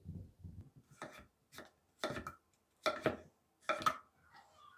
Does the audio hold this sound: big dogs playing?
no